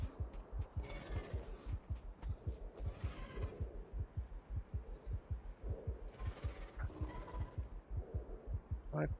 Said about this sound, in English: I could hear my heartbeat,